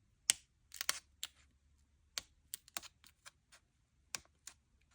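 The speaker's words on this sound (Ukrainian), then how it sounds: "Почнемо різати ми папір." Sharp, crisp snips and clicks of side cutters biting through paper folded twice, a dozen or so irregular cuts in a quiet room, close up.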